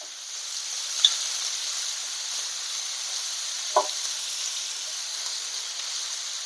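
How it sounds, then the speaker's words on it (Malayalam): Prawns fry in a pan, a steady close hiss of sizzling oil throughout, with a couple of brief taps or stirs standing out over the constant crackle. "ചെമ്മീൻ ഫ്രൈ ചെയ്തെടുക്കാം."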